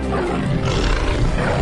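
A deep, sustained tiger roar, loud and close, rumbling continuously with heavy low-end growl and no pauses.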